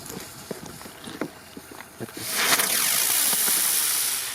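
A firework is lit on concrete: a few soft clicks and rustles come first, then a fizzing, hissing burst rises at about the halfway point and keeps spraying steadily to the end, close and moderately loud.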